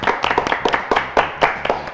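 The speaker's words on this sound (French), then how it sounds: "ton papa, on l'applaudit alors." A small group claps for a few seconds in a television studio, with loud, fairly quick and slightly uneven hand claps and no talk over them.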